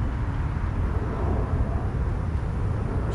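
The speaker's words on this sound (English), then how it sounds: "That's the airplane." An airplane flying low overhead near a runway beside a city cemetery, a steady, loud broadband roar with a deep rumble, unbroken for the few seconds heard.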